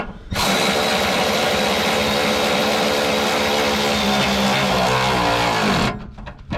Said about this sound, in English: Get our ratchet ready to rock and roll. Throw our bushing back up, nut back on, and run her down tight.